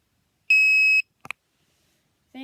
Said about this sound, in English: whenever you turn it on, you get a nice loud beep.